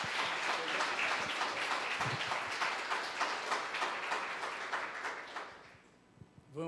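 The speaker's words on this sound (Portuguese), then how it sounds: "Dá uma salva de palmas para o nosso Deus." Church congregation applauding together at the close of a worship service, a steady dense wash of many hands clapping for about five seconds before fading out, with a few scattered claps at the end.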